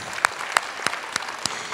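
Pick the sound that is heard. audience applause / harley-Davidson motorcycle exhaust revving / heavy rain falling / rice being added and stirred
audience applause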